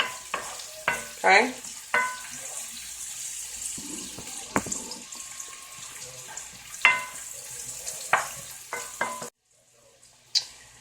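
A spoon stirs a shrimp and grits pan over medium heat, with clear scraping, clinking strokes at an irregular rhythm over a faint sizzle, close and moderately loud; one brief spoken word, then near silence at the end.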